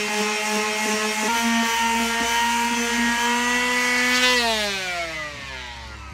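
A power sander whirs steadily on wood with a strong droning hum, its pitch sliding downward near the end as it winds down.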